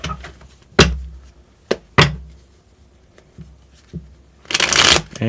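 Tarot cards are shuffled in several separate bursts, sharp riffling snaps and taps spaced apart, ending in a longer, louder flurry of shuffling.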